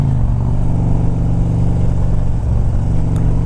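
A 2001 Harley-Davidson Ultra Classic motorcycle with high mileage idles and runs steadily. Its V-twin engine keeps up a loud, close, continuous low throb with no talk over it.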